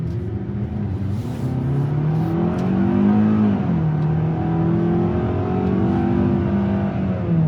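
A naturally aspirated 2026 Hyundai Tucson XRT SUV engine revving up and pulling under acceleration, the tone rising and holding, loud and close with no voices.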